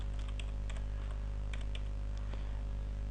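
Scattered, light key clicks from a computer keyboard over a loud constant low hum, a few quick taps in small clusters, no speech.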